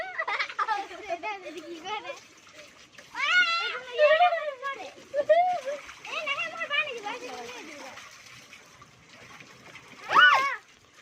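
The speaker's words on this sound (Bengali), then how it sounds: "আমি সুইমিং পুলের ভিতরে পানি দিচ্ছি" Water splashing in a swimming pool as children shout and talk excitedly over it, with a sharp splash near the end.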